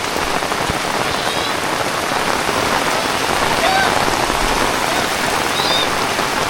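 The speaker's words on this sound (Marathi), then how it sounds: "पण आता भरपूर पाऊस पडतोय." Heavy rain pours down steadily outdoors in the Konkan countryside, a dense, loud, even hiss of drops with faint bird chirps.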